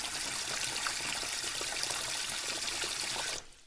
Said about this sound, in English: go and find a bucket with a handle and fill it about 1/3 full of water